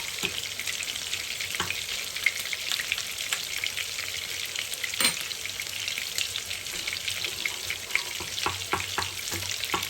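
Tomato paste fries in a pan for an İskender sauce, giving a constant bright sizzle broken by soft scraping knocks as a spoon stirs it.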